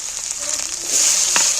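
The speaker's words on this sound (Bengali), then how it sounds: "এবার আমি কাটা পেঁয়াজগুলো তুলে দিচ্ছি।" Chopped onions drop into hot oil already spiced with cinnamon sticks, cloves and cardamom, giving a steady close sizzle with a brief louder hiss as they land.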